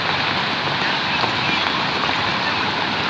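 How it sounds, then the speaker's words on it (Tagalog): Heavy typhoon rain and rushing floodwater during signal no. 2 in Laguna make a dense, steady broadband roar, loud and close, with no breaks. "Napakalakas po talaga ng baha, ng tubig."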